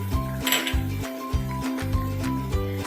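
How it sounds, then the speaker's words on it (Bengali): A utensil stirs ground coriander and cumin into a pan, making intermittent light clinks and scrapes against the metal over background music. "সবটা দিয়ে আমি ভালো করে প্রথমে মিশিয়ে নিচ্ছি।"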